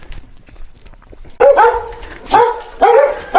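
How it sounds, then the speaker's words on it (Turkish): A Tarsus Çatalburun hunting dog barks loudly up close, three sharp barks spaced about a second apart after a quiet stretch of faint rustling. "Geldiğimizden beri havlıyorlar."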